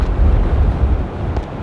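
Strong wind buffeting the microphone on an English coast path between Margate and Swalecliffe, a steady low rumbling roar that stays loud and constant with no voices.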